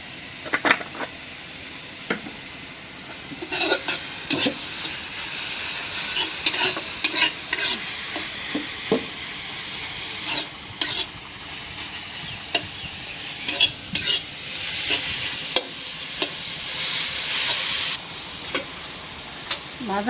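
Tender taro leaves frying in mustard oil, a constant close sizzle broken by repeated scraping strokes and clacks of a spoon stirring the pan, with no one speaking.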